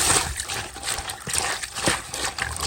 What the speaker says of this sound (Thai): เอาเกลือเทน้ำมา